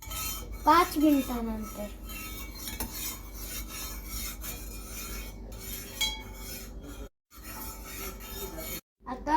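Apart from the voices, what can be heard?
spoon stirring sugar into coffee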